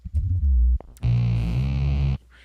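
A live loop plays a deep, buzzing bass line made by a voice sung into a microphone and distorted through an effects pedal, sustained for about a second after a brief lower rumble.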